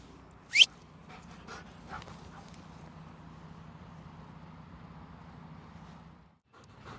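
A dog pants softly and steadily at close range with faint whimpers, broken early by one sharp high squeak or yelp, then a quiet pause near the end.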